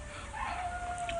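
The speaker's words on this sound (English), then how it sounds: "You'll have to excuse the dog, listeners, but he doesn't know we're on the radio." A seven-week-old Old English sheepdog puppy howls indoors in one drawn-out, steady tone of moderate loudness, with no voices over it.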